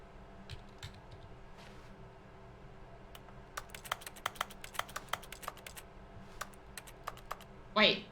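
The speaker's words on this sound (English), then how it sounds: "the clicking actually does keyboard sounds even though I'm nowhere near a PC" Keyboard clicking in the video game The Stanley Parable: a run of sharp, quick key taps, sparse at first and then faster and denser, ending in a brief louder burst.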